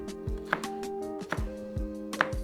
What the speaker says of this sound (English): Now we're gonna take these outliers here, these not so wanted, these less dead onions, if you will, and cube those motherfuckers up.